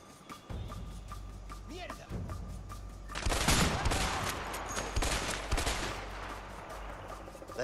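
Gunfire in the video game A Way Out breaks out as loud, dense volleys after a quieter stretch of ambient game sound and continues in rapid bursts.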